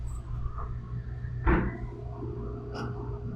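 A steady, low electrical hum fills the background, broken once by a sharp clack midway and a faint knock near the end.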